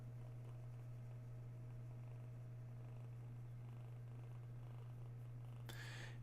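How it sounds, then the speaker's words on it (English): A cat purrs softly and steadily up close, a low continuous rumble held through the whole stretch with a brief rustle near the end. "you purr."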